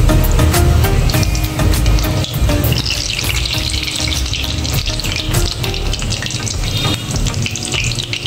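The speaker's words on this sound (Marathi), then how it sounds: "आणि आपल्याला हे मंद आचेवर तळायचे." Sweet potato gulab jamun fry gently in oil over a low flame, a steady dense crackling sizzle with bubbling running continuously and alone, no voices.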